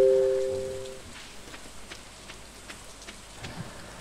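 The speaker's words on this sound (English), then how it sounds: "It is raining, so I'm gonna go fish." Rain falling in the farming video game Stardew Valley, a soft, steady patter of scattered drops that continues quietly after a brief tonal game sound at the start.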